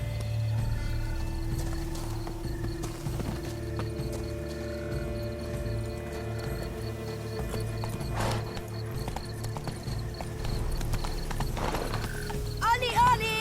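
Horse hooves clip-clop at a steady walking rhythm in The Witcher 3, riding through the Toussaint gardens, set under a constant hum of game ambience and music with a brief whinny-like flourish near the end.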